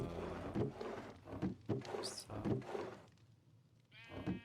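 Sheep bleat in a French farming video game, heard as short harmonic calls near the end, following stretches of game music and ambient noise.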